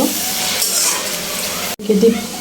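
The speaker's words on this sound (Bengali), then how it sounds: "নুডলসে মশলা দিয়ে সবজিটা ভালোভাবে ভেজে নিব" Vegetables with turmeric and noodle masala fry in a pan, giving a steady close sizzle with stirring, and a brief clatter near the end.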